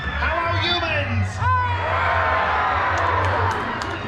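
A theater audience at the Monsters, Inc. Laugh Floor show in the Magic Kingdom, Walt Disney World, screams and whoops together, a loud sustained crowd roar with scattered yells rising above it.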